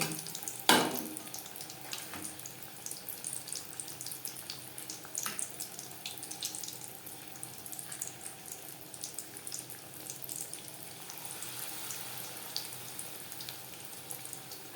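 Egg-and-flour battered pakoras fry in hot oil in a kadai over a medium flame, giving a faint, even sizzle, opened by one sharp clack near the start.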